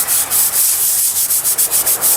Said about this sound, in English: So we're just going to scrub it off.